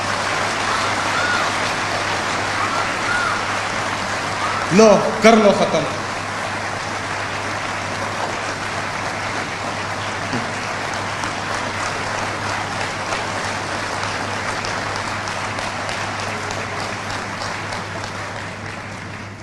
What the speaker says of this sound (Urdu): اس حال میں تالیوں کی گونج آپ کو بتائے گی کہ یہ عمران خان کو کتنا چاہتے ہیں.